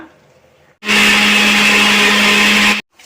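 Onion, tomato, ginger and green chili ground in an electric blender, a loud steady whirring drone running about two seconds, starting and stopping abruptly between quiet gaps.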